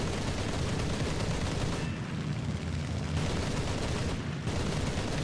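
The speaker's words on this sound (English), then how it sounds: "And down to machine guns, which are pretty pathetic on a Japanese plane." Machine guns of a Japanese J2M3 Raiden fighter firing in War Thunder arcade battle, a dense continuous rattle of gunfire filling the clip with two brief pauses, loud and close.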